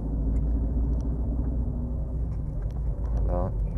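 Car engine rumbling low and steady from inside a moving car in Kermanshah, Iran, a constant deep drone with a voice talking over it.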